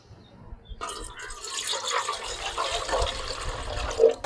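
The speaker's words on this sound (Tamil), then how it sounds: "தண்ணி ஊற்றிக்கலாம்." Water pours steadily into an idli pot set on the stove, a continuous splashing rush that starts abruptly and runs on, with faint background noise.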